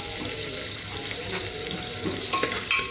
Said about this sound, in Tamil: வெங்காயத்தை போட்டுட்டு கொஞ்சம் இதை வதக்கிக்கிடுவோம்